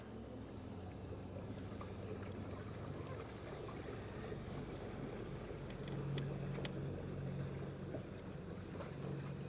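A boat's engine drones steadily out on open water while fishing, a low hum with wind noise throughout that swells slightly toward the end as it passes near.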